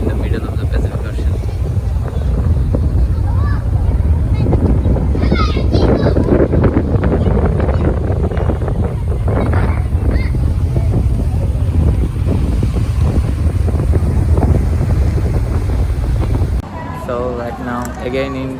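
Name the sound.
ferry crossing to Yokohama in the wind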